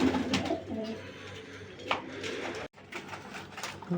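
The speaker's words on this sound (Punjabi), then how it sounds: "ਦੇਖੋ ਮੇਨ ਰਹਿ ਗਏ ਕਬੂਤਰ ਨਰ ਨੇ ਇਹ" Male pigeons kept at home coo in several soft, repeated low bursts, close by, with faint background noise and a brief dropout partway through.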